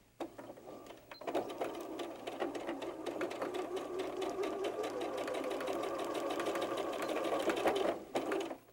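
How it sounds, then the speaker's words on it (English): Sewing machine running a quarter-inch seam with backstitching in fabric for 18-inch doll bloomers, a close steady mechanical whir that starts abruptly, holds for several seconds and stops near the end. "Sew a 1/4 inch seam allowance and back stitch at the beginning and the end."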